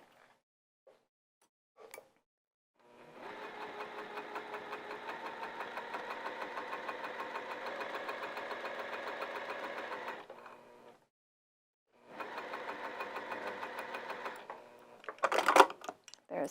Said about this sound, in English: now I'm going to sew down that open edge first